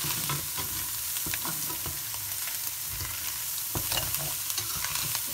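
Fried rice with peas is stirred around a hot frying pan, with a steady sizzle throughout and repeated scraping and tapping from the spoon at irregular intervals.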